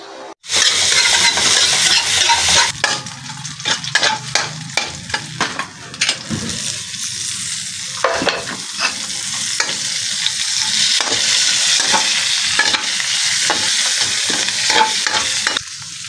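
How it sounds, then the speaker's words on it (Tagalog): Sirloin, shiitake mushrooms and carrots sauté in a pan for chapchae, a loud continuous sizzle broken by repeated scraping and stirring strokes, with no talk. "Next step is saute the sirloin, shiitake, mushroom, and carrots."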